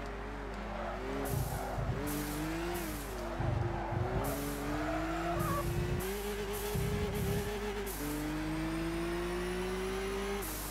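Race cars in Gran Turismo 6 skid off the track, engines droning and shifting pitch while tires squeal in bursts and scrape, a steady game soundscape with no talking.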